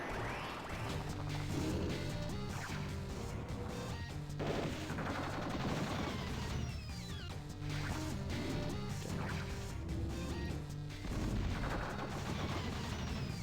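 Minigun cannon firing in the Advance Wars Dual Strike handheld game, a dense barrage of crashing blasts and rapid impacts layered over game music, loud and continuous throughout.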